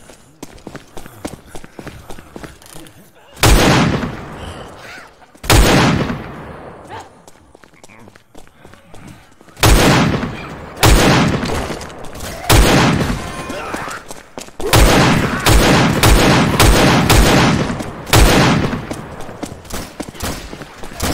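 A heavy mounted gun firing in Left 4 Dead 2, loud sustained bursts of rapid gunfire repeating in several long stretches, with quieter game noise and talking between the bursts.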